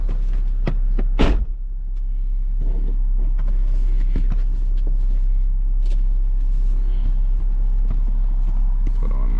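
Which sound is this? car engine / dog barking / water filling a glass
car engine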